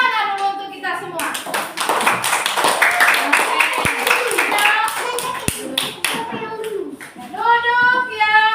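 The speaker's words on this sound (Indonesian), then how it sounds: "Tepuk tangan dulu untuk kita semua." A classroom of young children clapping together, a lively burst of many small hands applauding for several seconds, with children's voices chattering over it before and after.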